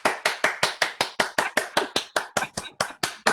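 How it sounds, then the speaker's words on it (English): Rhythmic church clapping at a community poetry gathering: about sixteen sharp, evenly spaced hand claps in a quick, steady beat, close and clear with no talk over them. "Church clap"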